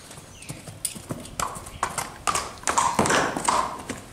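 A ten-year-old horse's hooves clop on a hard surface at an unhurried walking rhythm, close by, with a few louder strikes toward the end.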